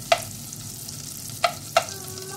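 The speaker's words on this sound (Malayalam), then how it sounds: "ഇതിലേക്ക് പൊടിച്ചു വെച്ചിരിക്കുന്ന നമ്മുടെ സേമിയ ഇട്ട് കൊടുത്ത് നല്ലതുപോലെ നമുക്ക് ഫ്രൈ ചെയ്തെടുക്കാം" Crushed vermicelli fries in butter over a low flame: a steady, quiet sizzle runs throughout, broken by three sharp metallic clinks of stirring against the pan.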